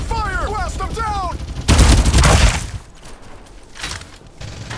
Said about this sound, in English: Open fire! I'm under fire!